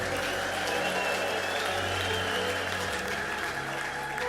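Dense, steady congregation ululating in praise with clapping throughout, loud and continuous, with musical tones underneath.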